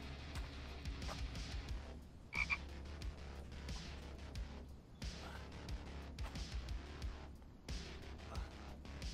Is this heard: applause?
no